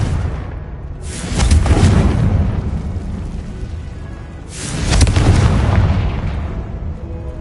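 A Confringo blasting spell exploding in Hogwarts Legacy, two deep, rumbling booms a few seconds apart, loud and close, each swelling and then fading into a sustained roar.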